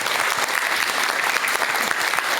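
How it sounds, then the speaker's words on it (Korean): Audience applause after a Buddhist monk's lecture on overcoming hardship, a dense, steady wash of many hands clapping together at close range, sustained and even throughout with no voices. "우리 귀한 말씀 들려주신 우리 회일 스님께 여러분 큰 박수 한번 부탁드릴게요"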